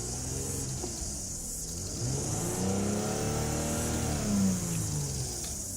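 A 2007 Toyota Mark X engine revving, moderately loud with the pitch rising and falling smoothly through a couple of throttle blips and then settling back.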